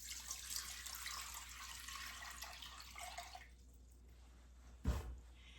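Water pours steadily into a cooking pot, a broadband rushing stream for about three seconds that tapers off, followed by a brief clunk near the end, with no talking.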